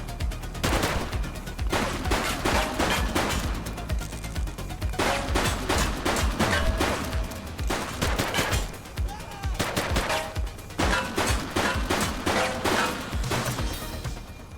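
Gunfire in the police video game The Precinct: dense bursts of rapid, loud automatic shots in long volleys with short pauses, plus some breaking glass, and no talking during the shooting.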